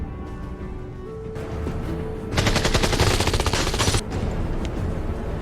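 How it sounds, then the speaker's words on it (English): A sustained burst of rapid automatic gunfire from a movie scene with a cartel gang rattles loudly for a couple of seconds, set against a rumbling, tense background. "the cartel gang continued chasing him until gunfire broke out."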